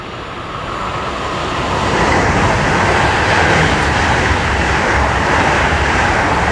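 A train rolls through Münster station, a loud continuous rumble and rail roar that swells over the first couple of seconds and then holds steady, close by with no talk.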